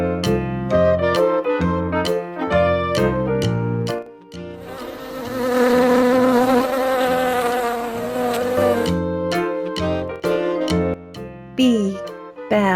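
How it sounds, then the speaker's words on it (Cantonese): Toy bee buzzing, a loud sustained electronic drone in the middle, framed by bright repeated toy tones before and after. "蜜蜂。"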